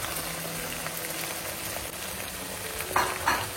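Spices and barista (crisp fried onions) being slowly stir-fried bhuna-style in a pan for a royal recipe, a steady close sizzle with soft scraping and a couple of brief louder stirring scrapes near the end.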